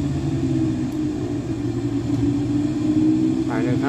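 An aircraft engine at takeoff on a flight in Alaska roars as a loud, steady low rumble that holds throughout, with a brief voice rising over it near the end.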